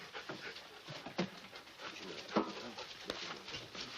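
A dog panting softly in quick breathy bursts, faint and close, with a few small whimpers and light sounds mixed in.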